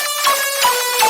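Future riddim synth bass processed with chorus, reverb, OTT compression and EQ that strips the lows, playing alone as a bright, buzzing, wobbling tone in three pulsing rhythmic hits.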